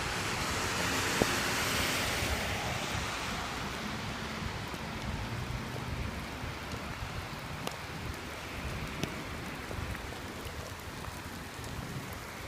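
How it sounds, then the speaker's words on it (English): Heavy rain pours steadily onto an outdoor walkway, a broad continuous hiss with scattered nearby drips and taps, slightly stronger at first and then even and unbroken. "The rain is coming down very significantly now"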